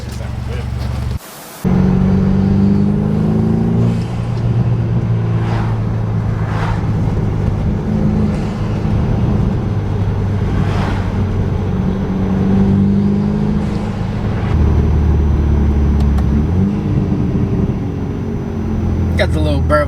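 A BMW F31 with a CTS catted downpipe runs with a low exhaust burble, rumbling steadily and close with occasional pops, while someone talks over it.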